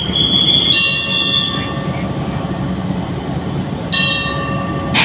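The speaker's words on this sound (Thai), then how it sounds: "ปลดเบรกออกตัวแล้วนะฮะ" A TPI Polene freight locomotive hauling container wagons of bagged cement releases its brakes and pulls away from Nakhon Ratchasima station, with loud sharp brake hisses at the start and again later over a steady rumbling of rolling stock.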